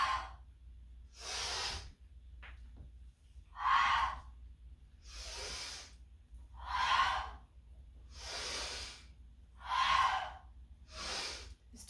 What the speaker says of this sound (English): as you exhale, breathing out through the mouth